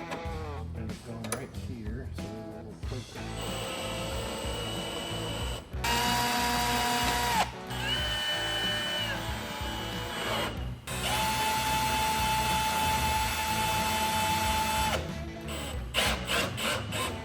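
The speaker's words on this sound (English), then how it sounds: "I'll mount up the template and start drilling our holes." A power drill bores holes through a mounting template on a 2016 Jeep Wrangler, in several sustained high whining runs separated by short pauses, over a busy background.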